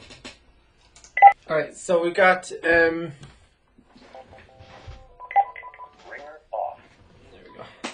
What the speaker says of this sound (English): Turn that phone off.